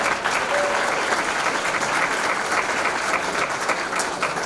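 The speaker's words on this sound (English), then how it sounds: "So if you would please give a round of applause for Latinos Unidos Scholarship." Sustained applause from a gala audience at a Hispanic scholarship fund event, dense steady clapping filling the room for several seconds without a break.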